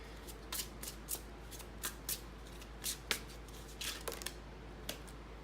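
Tarot cards being shuffled in quick, crisp riffling bursts separated by short pauses, close up and fairly quiet, with no talking.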